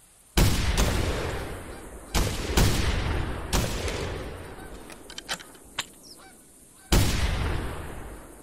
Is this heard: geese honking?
yes